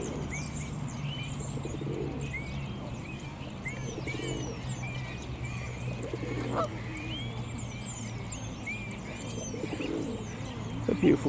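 Pigeons coo softly near water while small birds chirp and tweet steadily all around in an outdoor setting, a constant moderate chorus with no talking.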